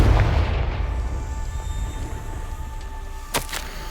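A Confringo fire spell explosion in the Hogwarts Legacy video game, a loud low boom that opens sharply and then rumbles on as a sustained roar, with a brief crackle near the end.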